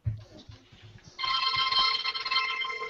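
A telephone rings for an incoming call: after a few soft knocks, a loud, bright electronic ringing starts and holds steadily to the end, with no voices.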